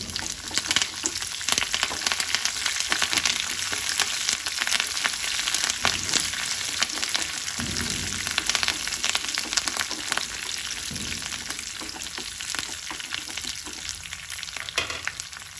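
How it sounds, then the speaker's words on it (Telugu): Curry leaves sizzle and crackle in hot oil, with fenugreek greens, garlic and chutney ingredients nearby, while a spoon stirs the pan in a steady, continuous fry that stays loud and close throughout with no talking. "కరివేపాకు వేసి కలుపుకోండి"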